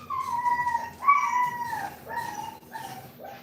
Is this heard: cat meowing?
yes